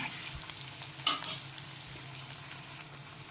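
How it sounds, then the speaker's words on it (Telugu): Bitter gourd pieces stir-fry in hot oil in a pan, giving a steady close sizzle with one sharp scrape of stirring partway through. "మనం ముందుగా కట్ చేసుకున్న కాకరకాయ ముక్కలను వేసుకోవాలి. ఒకసారి కలుపుకొని"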